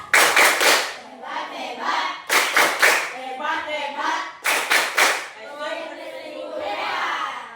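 Classroom children perform the tepuk hebat clapping chant, three bursts of loud rhythmic group claps separated by stretches of sung or chanted voices.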